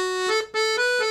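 A 72 bass accordion plays the D section of an Irish jig in E Dorian, steady reedy melody notes in a lilting run with brief gaps between phrases.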